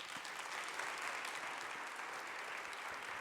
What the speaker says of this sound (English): So that's one final round of applause for all of our award nominees and our winners.